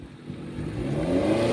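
BMW F30 diesel engine accelerating, a steady mid-pitched drone that swells as the revs climb, heard from inside the car with a low rumble and no one talking.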